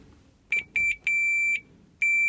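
Several sharp electronic beeps from a multimeter on ohms, testing an ignition coil on a Honda 7.5 outboard boat motor with no spark: short chirps then a longer held tone and another start, clean and close with quiet background.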